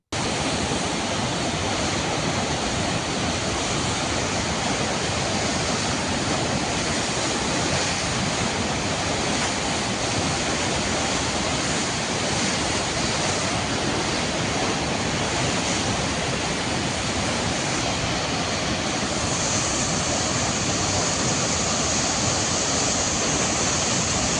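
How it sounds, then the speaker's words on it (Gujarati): Water from the six opened gates of Sukhi Dam pours into the Bharaj river, a loud, unbroken roaring rush that holds steady throughout. "સુખી ડેમના છ દરવાજા ખોલતા બાર હજાર ક્યુસેક પાણી ભારજ નદીમાં છોડવામાં આવ્યું છે"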